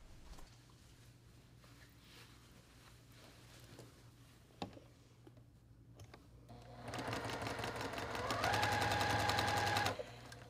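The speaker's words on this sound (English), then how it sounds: "we're gonna sew with a 1/4 inch seam down" A sewing machine stitches a quarter-inch seam on a quilt block, starting near the end and running loud and close for about three seconds with a rapid, even rhythm and a pitch that climbs as it speeds up. Quiet room noise comes first.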